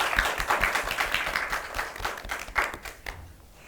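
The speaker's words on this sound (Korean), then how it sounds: "오늘 공연에 큰 박수 부탁드립니다." Audience applause following a cellist's opening performance, a burst of distinct hand claps that starts strong, keeps a ragged rhythm and fades out toward the end, with no talking over it.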